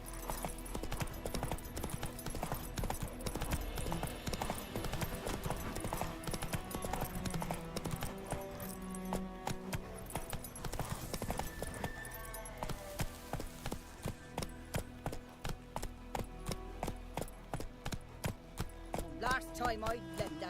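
Roach the horse gallops in Witcher 3, a steady clip-clop of hooves running under dense game music and ambient sound, with voices talking over parts of it.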